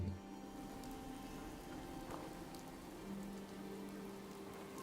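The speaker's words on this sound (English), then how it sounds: "And of course, it's raining." Rain falls steadily in the video game Fallout 4, a faint, even patter of drops on surfaces with soft low hum beneath, continuous throughout.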